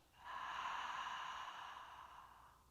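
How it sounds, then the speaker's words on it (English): A single long ujjayi exhale made with the mouth open, a steady breathy hiss like fogging a mirror, close and clear, lasting about two seconds and fading gently at the end. "Make the fogging of the mirror sound with the mouth open on your exhale."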